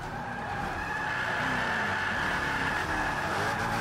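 A car in Forza 5 skidding under the handbrake, a sustained loud tire squeal over the engine drone lasting the whole moment.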